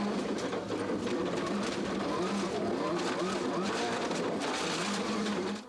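Subaru rally car number 2, prepared by Prodrive, roars steadily at close range, a dense, continuous engine drone with a brief tail-off at the end.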